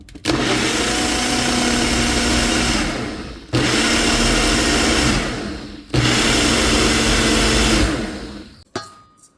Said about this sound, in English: We're just gonna process this until smooth